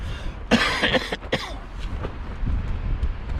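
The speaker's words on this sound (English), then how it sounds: "And obviously keep coughing because of that." A few harsh coughs from a person with a sore throat, close to the mic, clustered together, followed by quieter throat clearing and low background noise.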